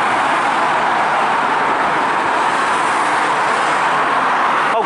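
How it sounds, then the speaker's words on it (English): Steady loud roar of air from a London Underground ventilation shaft in the East End, mixed with gusting wind and passing street traffic, continuous broadband rush with no talk. "that's the ventilation for the underground. That's ventilation for the tube system."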